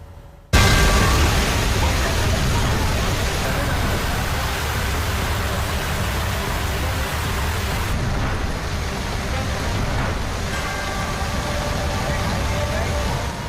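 Heavy rain pours steadily during flooding in a Madhya Pradesh city, a dense, continuous roar of falling water that stays loud and unbroken from start to finish, with no voices.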